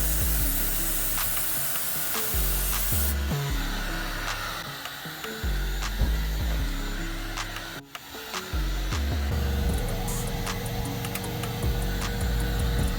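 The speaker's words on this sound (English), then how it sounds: "We use the heat gun just to slowly evaporate the moisture out of the paint" A heat gun blows steadily while drying freshly applied base coat paint on a car bumper in a repair shop. Its continuous whooshing hum shifts in tone partway through and dips briefly before resuming.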